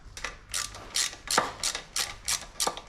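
Quick, repeated ratcheting clicks from a hand tool tightening a part during a car brake repair, about seven bursts at an uneven rhythm, close and fairly quiet.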